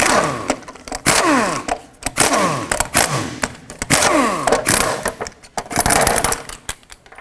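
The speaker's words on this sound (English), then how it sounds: "19mm socket, remove all 5 of your lug nuts, and then take the wheel off" A 19mm socket, likely on a power tool, spins off the wheel lug nuts of a 2005-2010 Pontiac G6 with loud, repeated whirring ratchet bursts, each cut by sharp clanks and pauses.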